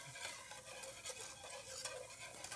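Garlic cooking in butter in a pan, stirred steadily so the butter doesn't brown, giving a soft continuous sizzle with scraping strokes throughout, quiet and close.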